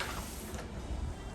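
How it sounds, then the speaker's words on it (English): A residential garage door mechanism running steadily, with a continuous mechanical rumble and whir at close range and no voices. "And the garage door."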